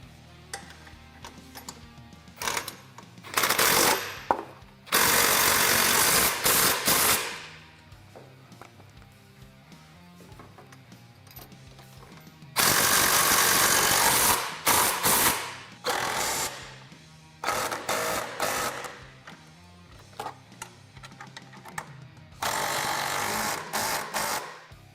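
Power tool bursts tightening winch mount hardware on a Kawasaki Teryx KRX 1000, with four loud, sustained runs of several seconds each separated by quieter handling noise, close by with no talking.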